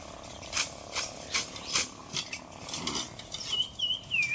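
Fodder for cows and buffaloes is cut in a village by hand, with steady, rhythmic rasping strokes repeating about twice a second. Faint high chirps sound near the end.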